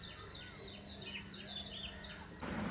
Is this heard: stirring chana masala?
no